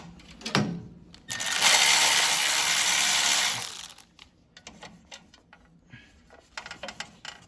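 A ratchet wrench works loose the 10mm bolts on a Yard Man snow thrower carburetor with a Power More engine: one loud, steady whirring burst for a couple of seconds, then quieter, scattered clicks and taps.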